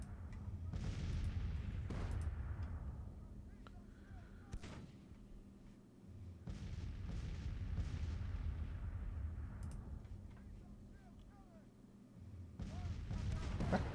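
Artillery guns fire in a Grand Tactician Civil War battle game, with booms scattered across a steady low rumble of battle, some sharp and close, others dull and distant, while someone talks quietly throughout.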